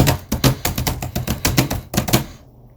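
Fast, hard keyboard typing with loud, close, clattering keystrokes in quick irregular bursts, breaking off abruptly near the end into silence.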